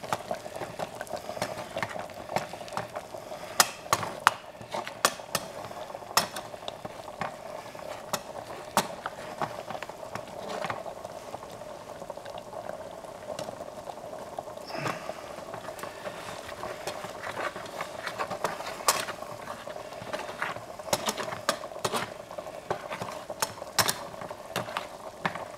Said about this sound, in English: I'm going to slowly add in my flour and you stir it into the fat